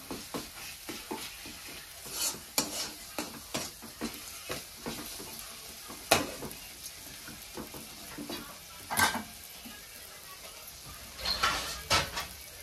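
Tomatoes frying in hot oil for a Marathi green pea chutney, a steady sizzle broken by irregular louder scraping stirs of a spoon in the pan, close and without voices.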